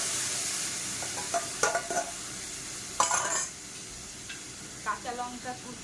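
Bottle gourd and mung dal chorchori cooking with five-spice tempering in a pan, a soft sizzle under intermittent scraping and clinking of a spoon against the pot, with a voice talking over parts of it.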